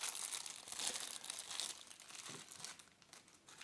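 Plastic product packaging for a Perixx PERIDUO-211 wired keyboard and mouse set is crinkled and rummaged through, a close, continuous rustle with scattered sharper crackles and no voices.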